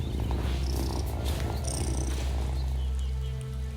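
Cat purring in the video game Wylde Flowers, a loud, close, continuous rumbling purr that stays steady throughout.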